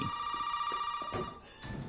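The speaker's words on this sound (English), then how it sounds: "To get this phone to ring" A telephone rings inside the video game Resident Evil 7, a steady electronic tone that holds throughout while soft thuds and short noise bursts sound over it.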